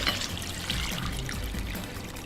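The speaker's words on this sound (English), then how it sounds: "Soak the clams in cold water" Cold water poured over clams in a bowl to soak them for paella: a continuous, close splashing pour with a trickling quality, alone and without talk.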